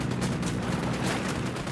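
Enemy gunfire in the video game Ghost Recon Wildlands, a dense, loud burst of rapid shots crackling continuously over a short stretch, with no talking.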